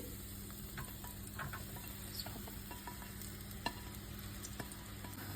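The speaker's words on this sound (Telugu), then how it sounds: "నేనైతే బ్రెడ్ని ఎడ్జెస్లో కట్ చేసేసుకొని గీలో ఫ్రై చేసుకుంటున్నా" Small bread pieces frying in ghee give a steady, soft sizzle and hiss with light stirring scrapes throughout, no voices.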